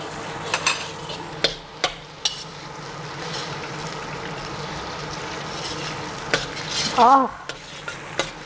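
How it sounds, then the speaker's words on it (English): Chili paste and garlic frying quickly in a pan for char kuay teow, a steady close sizzle with intermittent stirring scrapes and knocks, one brief exclamation from a voice near the end. "And then I add the chili paste, maybe 1 teaspoon. Or actually 1 teaspoon of the chili paste. Quickly fry them."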